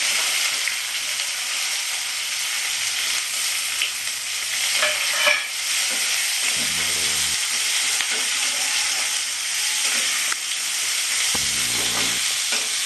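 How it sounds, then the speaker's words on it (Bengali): Chopped onions and cumin seeds fry in a pan for mutton keema with chickpeas, giving a loud, continuous sizzle and hiss broken by a few stirring scrapes near the middle and the end, with no talk. "এবার জিরাটা ফুটে গেছে এবার আমি পেঁয়াজটা দিয়ে দেবো"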